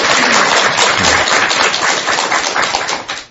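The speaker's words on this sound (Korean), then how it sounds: "우리 회원선님께 뜨거운 박수 한번 부탁드리겠습니다." Warm applause from a studio audience on a Buddhist television talk show, a dense, steady wash of many hands clapping that carries on throughout and tapers slightly at the very end.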